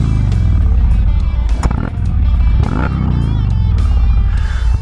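An Indian Chief Dark Horse motorcycle engine runs loud and close with a deep, throaty rumble, rising into several sharp revs and falling back to idle throughout.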